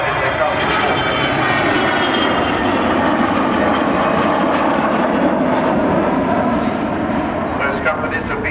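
An aircraft flying at the Great Yorkshire Airshow 2015 at Church Fenton makes a loud, continuous engine roar that stays strong and steady from start to end.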